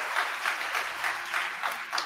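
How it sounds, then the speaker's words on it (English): Applause from an audience at a school Founder's Day awards program fills the short clip, a steady patter of many hands clapping together. "Why don't we give everybody a hand clap of praise for Miss Rosa Davis?"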